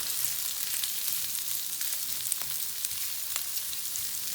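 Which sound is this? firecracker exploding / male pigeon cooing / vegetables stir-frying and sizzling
vegetables stir-frying and sizzling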